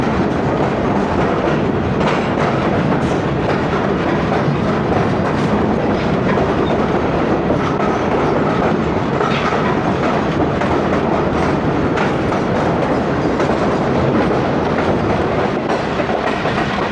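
The 8DN Tezgam express runs from Rawalpindi to Lahore, heard from inside an old AC sleeper coach as a loud, steady rumble with clickety-clack wheel beats throughout, and no one speaking.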